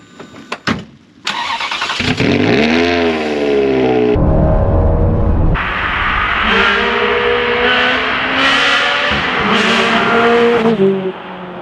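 A right-hand-drive 1983 Ferrari 512 BBi starts and revs, its engine climbing and falling through several loud gear-like sweeps as it pulls away and drives close by, with no talking.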